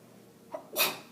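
A single quick sneeze, a short intake of breath followed by a sharp burst, fairly close.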